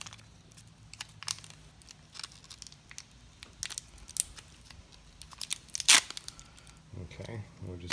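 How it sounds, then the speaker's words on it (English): Sticky rubber tire patch peeled from its packaging during a tire repair, giving sharp crinkly tearing and rustling bursts close by, with a louder rip near the end, amid speech. "grab one of these patches in here. It's kind of sticky. Just peel one of them out."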